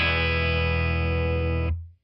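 An electric guitar on a clean tone rings out a single sustained chord for under two seconds, loud and steady, then is abruptly muted.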